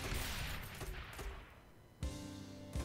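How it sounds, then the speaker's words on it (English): Mortar tower explosions in the Rogue Tower video game boom in a quick volley of sharp blasts, followed by a short lull and then two more heavy impacts, loud with no talk. "There's just something so satisfying with the explosion."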